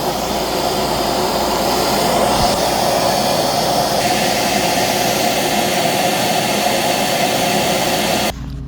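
Euro Pro EP601 vacuum running on high airflow, a loud, steady roaring whoosh close by that continues for over eight seconds before abruptly dropping off.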